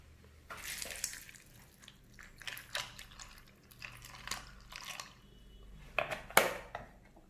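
Dairy-free milk substitute poured from a carton at close range, with irregular splashing and liquid gurgles that rise and fall over several seconds, ending in a sharper splash.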